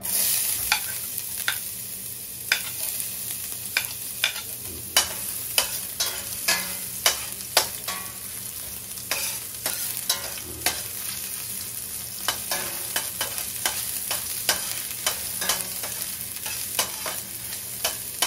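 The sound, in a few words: ginger sautéing in hot oil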